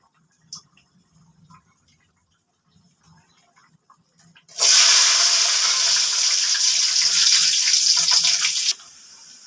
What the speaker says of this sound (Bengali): কড়াতে একটু তেল দিয়ে দিলাম। প্রথমে রসুন দিয়ে দিচ্ছি।